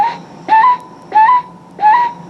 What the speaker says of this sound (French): Oulou, c'est une petite perdrix,